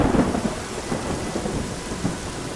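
Steady rain pours down with deep, rolling thunder rumbling beneath it, a continuous stormy wash with no voices, used as a backdrop for a horror story.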